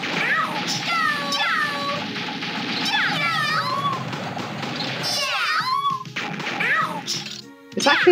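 Small high-pitched kitten meows repeat over a steady rain-like hiss in the video game Tail Concerto, with background effects throughout.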